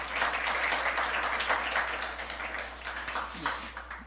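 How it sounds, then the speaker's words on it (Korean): Applause from a church congregation during a Sunday service marking the church's second founding anniversary, a dense wash of clapping that holds steady for about four seconds, then thins slightly. "우리 그 하나님께 영광의 박수 올려드리겠습니다"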